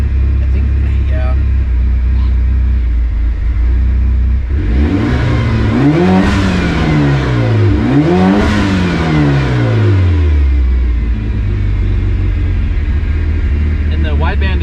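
A turbocharged Evo 9 with a 2.3-liter stroker engine revs hard twice in quick succession close by, its pitch climbing and falling each time before settling back to a steady idle hum.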